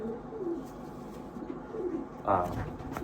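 Soft, low coos of a racing pigeon being handled repeat a few times up close, with a brief rustle of movement and muffled voices in the background.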